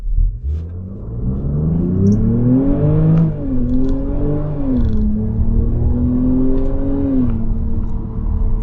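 A 2024 Jaguar F-Pace P400 SUV pulls away from a standstill and climbs in pitch through several gear shifts of its 8-speed automatic, the rising whine dropping back each time, heard from inside.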